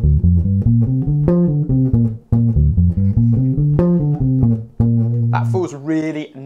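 Electric guitar plays a blues riff of crisp single notes in a steady, bouncy rhythm, close and alone, finishing on a brighter bent figure.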